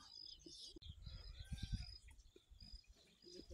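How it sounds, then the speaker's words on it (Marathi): Birds chirp on a village farm in the evening, with short bright calls repeating through the scene over a low, rumbling background and no one talking. "पक्षी मस्त चिवचिव करायला लागलेत."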